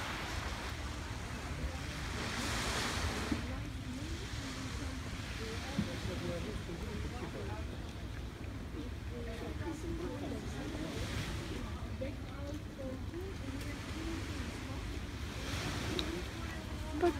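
Sea waves washing onto a sandy beach with a pebble entry at the Rixos Beldibi hotel in Kemer, Turkey, a steady surf wash with swells rising and falling, plus wind noise on the microphone.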